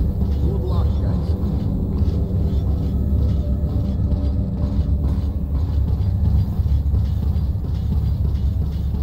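A train rolls through a tunnel in the Metro 2033 Redux video game, a loud, continuous low rumble and rattle that holds steady throughout, with nothing else standing out.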